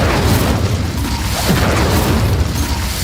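The Incendio fire spell is cast in the video game Hogwarts Legacy, producing a loud, dense roaring whoosh that rushes steadily for about three seconds without a break.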